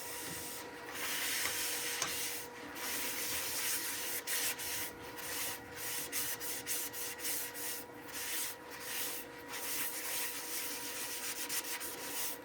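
A wooden bowl spins on a lathe while excess finish is wiped off with a cloth, giving a steady close rubbing hiss over a low continuous motor hum, with brief changes in the wiping strokes throughout.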